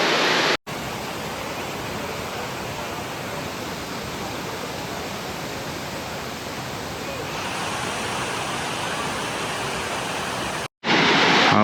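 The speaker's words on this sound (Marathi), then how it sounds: "हा पूर्ण असं वॉटरफॉल आहे." A waterfall pouring into a flowing river beside living root bridges in Meghalaya, a loud, continuous broadband rush of water heard close and alone throughout.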